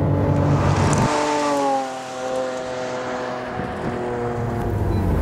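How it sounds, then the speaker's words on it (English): A 2012 Lamborghini Aventador with a mid-mounted V12 is driven around a skid pad. The engine roars loud and close, dips briefly as the throttle eases, then climbs again in a steady rising drone. "I never thought I'd drive a V12 mid-engine Lamborghini and be able to counter steer it around a skid pad"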